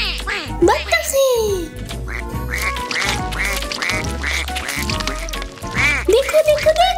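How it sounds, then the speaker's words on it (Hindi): Cartoon-style duck quacks rise and fall in short bursts over a bright children's music track, with more quacks near the end of the loud, busy mix. "बत्तखे।"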